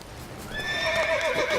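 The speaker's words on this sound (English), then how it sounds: "You don't like other horses. Go away, horses." A horse in The Witcher 3 video game lets out a clear, mid-distance neigh that rises and wavers for about a second over steady game ambience.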